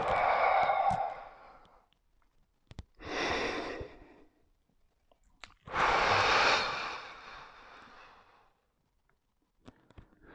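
Deep, audible exhales during a Pilates mat routine: a few long, breathy outward breaths, close and fairly loud, separated by quieter pauses with small rustles and clicks.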